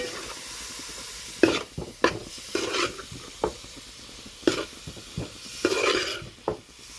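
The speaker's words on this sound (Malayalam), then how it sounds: "നന്നായിട്ടൊന്ന് ഇളക്കി കൊടുക്കണം." Beef liver pepper fry is stirred in a pan, a spoon scraping and clattering in irregular strokes over a steady low sizzle, with no talking.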